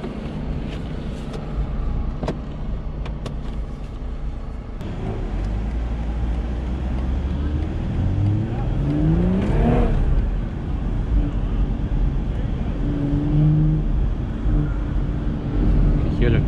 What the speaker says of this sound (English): You can hear the turbo sound.